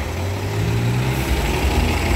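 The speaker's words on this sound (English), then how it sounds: "These buses are loud, man." Loud bus engine idling and rumbling on Main Street in Brampton, Ontario, a steady low drone close by with no talking.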